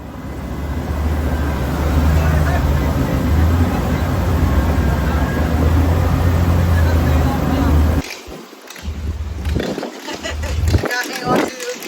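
A boat motor rumbles steadily for several seconds on a boat tour near Phuket, then gives way to choppy wind buffeting and brief voices near the end.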